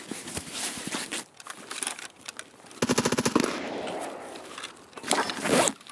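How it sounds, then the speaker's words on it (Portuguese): Gunfire in Escape from Tarkov: two short rapid bursts of automatic fire, the first around the midpoint and a louder one near the end, over a busy gameplay backdrop with shuffling movement noises. "O bicho atira por tudo."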